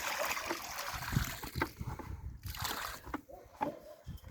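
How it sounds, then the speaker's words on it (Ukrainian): Water is poured from buckets onto a freshly planted grape seedling, a close, uneven splashing and trickling that comes in surges, with brief pauses between pours. "Два відеречка води потрібно додати."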